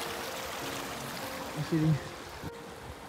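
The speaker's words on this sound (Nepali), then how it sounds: "खोला बगिरहेको छ" A river stream flows with a continuous broadband rush at an outdoor family picnic spot, with a brief spoken word over the steady water noise.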